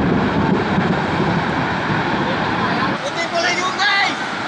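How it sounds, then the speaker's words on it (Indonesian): Strong, steady storm wind from a whirlwind roars and buffets the microphone outdoors in Sumedang, with faint voices in the background. "Angin puting beliung di Kahatek."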